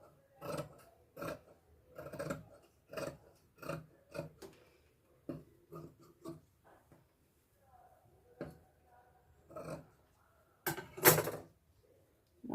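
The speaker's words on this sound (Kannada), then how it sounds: "ಅದಕ್ಕಾಗಿ ನಾವು ಒಂದು ಲೈನ್ ಹಾಕ್ಕೊಂಡು ಇದನ್ನು ಸ್ಟ್ರೇಟಾಗಿ ಕಟ್ ಮಾಡ್ಕೋಬೇಕು" Scissors cut blouse lining fabric along a marked straight line, giving a string of close, crisp snipping and rasping strokes in an irregular rhythm with short pauses between cuts.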